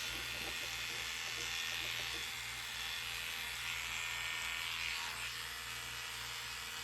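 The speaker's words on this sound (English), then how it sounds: "The pro of clippering it before is you do have to kind of go over it a little bit more to give you a nice, even finish." Electric clippers buzz steadily and close up while trimming an animal's clean face over a clean coat, a continuous motor hum with no break.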